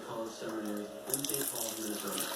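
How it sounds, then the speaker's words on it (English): Water runs steadily from a tap into a gold pan for soapy water, a continuous splashing rush with some brief louder spatters midway. "We'll get a little soapy water in there."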